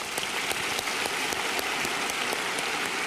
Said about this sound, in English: how about a round of applause for our two participants?